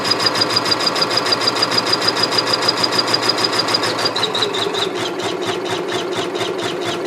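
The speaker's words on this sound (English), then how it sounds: "You can also change the speed while it's stitching" A Janome MB4 embroidery machine stitches with a fast, evenly repeating mechanical thump and whine, close and steady, its rhythm shifting slightly partway through as the speed changes.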